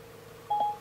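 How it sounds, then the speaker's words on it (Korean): A short electronic call tone from Apple CarPlay as Siri places a phone call to a contact: a single steady beep of under a second, clear and close over a faint background hum, with no talking. "손흥민님의 휴대전화로 전화 거는 중"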